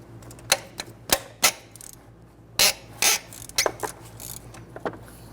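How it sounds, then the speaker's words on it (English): A 15mm wrench breaking loose and turning alternator bolts on a 1999-2004 Jeep Grand Cherokee 4.7L V8, sharp metallic clicks and ratcheting taps in irregular bursts, close and fairly loud, with no talking. "I'll go ahead and break the two 15s loose here."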